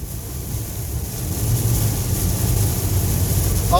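Hurricane wind and rain batter a car on the move, a steady, loud broadband rush of wind and road noise with a low rumble underneath, continuous and without any voices.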